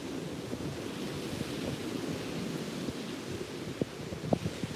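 Steady surf washes continuously along a beach, a broad even roar with a few slightly louder breaking waves near the end, and no voices.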